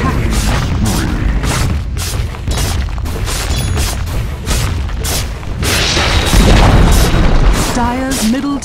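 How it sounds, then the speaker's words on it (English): Dota 2 match with a tower under attack and collapsing: a dense, loud stretch of repeated booming impacts and bursts, with game effects and tones layered throughout and a swell of noise near the end. "Dire's middle tower has fallen."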